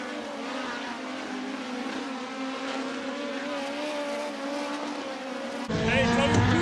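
Race cars circle a red clay dirt track during a hot lap session, engines droning and rising in pitch at a distance, then a sudden louder, closer roar in the last second.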